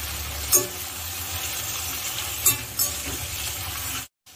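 Brinjal sautéing in oil for a tamarind vathal kulambu gravy, a close steady sizzle with a few distinct scraping stirs, then cutting off abruptly near the end, no speech.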